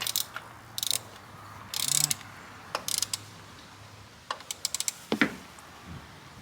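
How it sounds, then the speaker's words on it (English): Torque wrench tightening spark plugs on a Nissan Z engine, giving a series of short ratcheting clicks in quick bursts separated by pauses, close and crisp. "you're just going to want to go ahead and torque them down"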